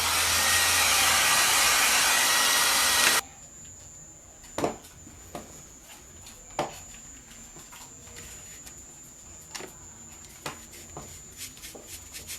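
A hair dryer blasts loudly and steadily for about three seconds to dry paint on a DIY vintage drawer unit, then cuts off, leaving a faint whine and scattered soft knocks and handling sounds.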